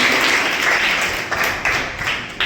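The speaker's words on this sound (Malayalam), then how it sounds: "നമ്മുടെ ഒരു ക്ലാപ്പ് കൊടുത്തേ." A classroom audience breaks into sustained applause, a dense burst of many hands clapping together for a couple of seconds before tapering into a few scattered final claps.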